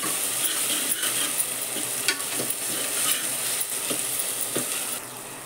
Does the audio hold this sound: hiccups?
no